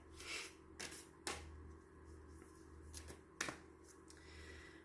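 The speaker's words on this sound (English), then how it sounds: "I'm just going to shuffle just a couple times here." Cards being shuffled in a few quick riffle bursts with sharp snaps between them, close and fairly quiet, with a low steady hum underneath.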